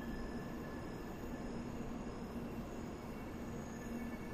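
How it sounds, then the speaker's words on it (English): Steady rumble and hum of a Shinkansen train rolling along the tracks in a horror video game, heard continuously and evenly with a faint high whine and no voices. "stopping the train"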